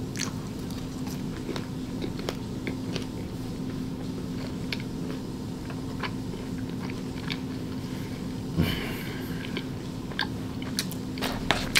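Someone eating Chick-fil-A up close, with steady moist chewing and occasional crunchy bites over a low constant hum.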